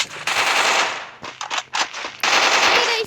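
Rapid automatic gunfire in the Free Fire video game, likely a P90, crackles in loud dense bursts, breaks into a few separate shots, then resumes in a sustained stream.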